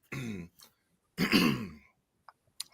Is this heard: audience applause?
no